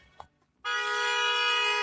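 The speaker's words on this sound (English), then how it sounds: "so he's just honking" A car horn blares in one long, steady, loud honk that starts abruptly after a brief quiet moment with a faint voice and holds to the end, heard on a street in Israel.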